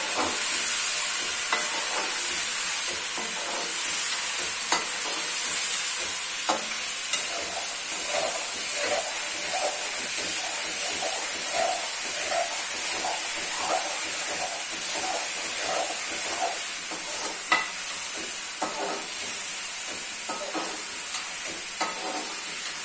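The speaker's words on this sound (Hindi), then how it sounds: "आलू की भुनाई कर रही है" Potatoes frying in a pan, a constant loud sizzle and hiss with repeated scraping taps of a spoon stirring them, close by and without talk.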